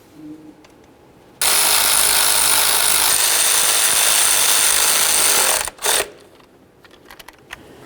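Loud, steady whirring burst of a power tool running nut-down on an ignition coil bracket of a 1994-2004 Chevy S-10, lasting about four seconds, then a brief second burst, with light clanks around it.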